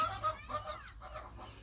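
Chickens and young chicks clucking and peeping close by, a busy run of overlapping calls and chirps over a low steady rumble, with no talk.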